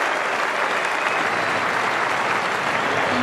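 Cricket crowd at the Oval applauds a century during a one-day international, a steady dense wash of clapping from the whole ground that holds an even level throughout.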